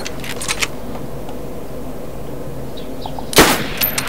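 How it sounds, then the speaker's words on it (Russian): Gunfire in the DayZ video game: one sharp, loud shot rings out near the end after a stretch of quiet background ambience, with a few faint clicks earlier. "Я стреляю"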